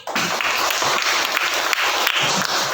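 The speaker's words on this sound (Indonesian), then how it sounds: "Tepuk tangan dulu." Students in a classroom clap together before the lesson begins, a steady, dense round of applause filling the room at close range.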